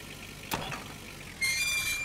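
A repaired car engine in the video game Thunderhead: a single knock, then the motor catches and settles into a steady, buzzing idle with a bright whine on top.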